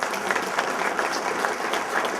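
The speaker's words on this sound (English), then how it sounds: "Let's give a tremendous round of applause to all of these folks who are here tonight." A hall of fame induction crowd applauds, a dense, steady wash of many hands clapping at close range that holds unbroken for about two seconds.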